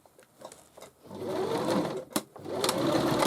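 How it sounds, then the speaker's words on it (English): A sewing machine runs a straight back stitch on a cushion cover decorated with doilies, starting with short bursts and then whirring steadily and close. A brief stop with a click comes before it resumes. "Bit of a back stitch. And so that's just going to be a straight stitch."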